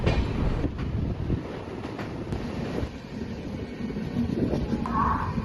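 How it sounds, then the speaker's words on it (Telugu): A passenger train rolling along just after pulling out of Secunderabad, with a steady rumble and rhythmic clatter of wheels on track heard from on board, plus a brief higher squeal near the end. "గైస్ ఇప్పుడే సికింద్రాబాద్ నుంచి ట్రైన్ అయితే కదిలింది."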